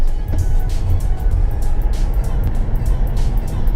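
A 2016 Tesla Model S 75D electric car pulls away from about 35, its steady broadband road and tire roar and a faint motor whine filling the cabin, loud and continuous with no talking.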